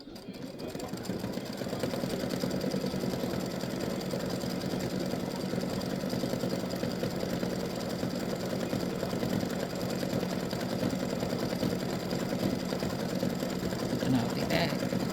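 An embroidery machine stitches a Halloween witch design with a pumpkin hat, its rapid steady needle chatter and motor hum running continuously and close throughout.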